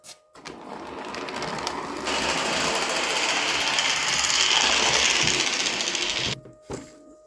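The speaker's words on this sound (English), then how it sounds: "It's still a fast track on plywood, so it's going to be noisy." A Bowser toy trolley runs noisily along fast track laid on bare plywood, a loud, continuous mechanical whir and rattle up close that grows louder midway, then cuts out abruptly near the end.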